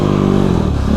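Dirt motorcycle engine droning loud and close while climbing rough rocky desert hills, a dense continuous roar with shifting revs and no pauses.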